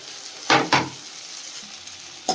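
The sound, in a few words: sabudana frying in a pan, potatoes being added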